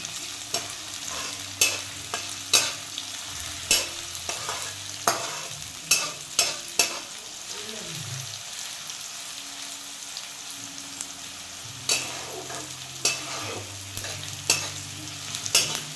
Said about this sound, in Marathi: आता मस्त कांदा झाला ना परतून